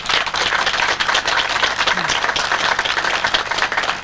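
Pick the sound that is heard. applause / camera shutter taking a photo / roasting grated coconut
applause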